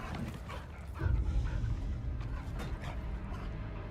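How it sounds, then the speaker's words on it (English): A dog in a video game gives a few short barks and yips over a dense, murky game soundscape, at moderate distance and mid loudness. "Yep, it's a doggo."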